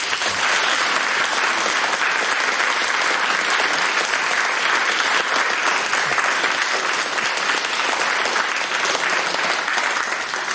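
Studio audience applauding the winner of a quiz final, dense and continuous clapping that stays loud and even throughout without a break.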